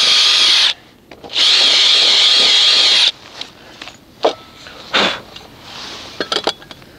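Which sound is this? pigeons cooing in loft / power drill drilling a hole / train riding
power drill drilling a hole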